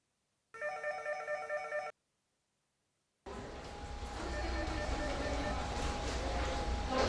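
A telephone rings once in a short burst of electronic trills, followed by a pause and then a busy, noisy indoor scene with voices and a steady tone.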